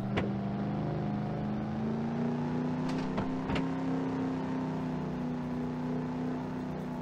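Old Red, an old farm truck in Farming Simulator 22, pulls steadily in second gear, its engine holding a constant hum with a gently rising pitch and a few brief clicks, close and alone without talk.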